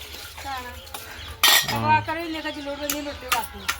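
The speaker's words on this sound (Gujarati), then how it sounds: "વાસણ ધોવાય છે" Metal utensils and pots clatter and clink as dishes are washed by hand at home, with sharp scraping bursts and ringing knocks in an irregular rhythm, fairly close.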